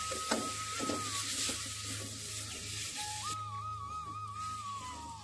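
A sweet stuffing for dudh puli pitha fries quietly in a pan with a soft continuous sizzle, a steady low hum beneath, and a faint whistle-like tone drifting over it.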